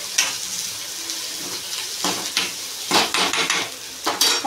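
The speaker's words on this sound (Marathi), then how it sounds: "कांदा लालसर होतोय" Onions turning reddish in a pan while gram flour batter is mixed for pithla, a soft continuous sizzle broken by a few clattering utensil knocks and stirring scrapes, close by and without speech.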